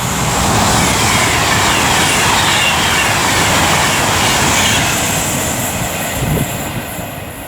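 An Avanti West Coast Class 390 Pendolino, 390-046, approaches Rugeley Trent Valley on the West Coast Main Line, a loud, steady rush of wheels and traction hum that fades slightly toward the end, no voices.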